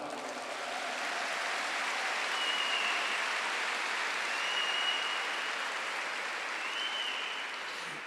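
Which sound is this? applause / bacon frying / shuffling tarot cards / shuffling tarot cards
applause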